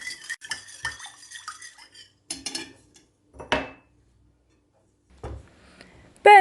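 A utensil clinks and scrapes against a bowl while liquid ingredients for a yeast-free breakfast dough are mixed, coming in short bursts of clattering taps separated by pauses, close and fairly quiet.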